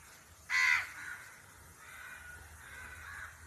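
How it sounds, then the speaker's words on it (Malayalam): A crow beside a flowering mango tree gives one loud, close caw, followed by a faint, steady background hum. "അപ്പോൾ ഇവിടെ ഒരു കാക്ക വന്നിരിപ്പുണ്ട്."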